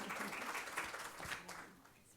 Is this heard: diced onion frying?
no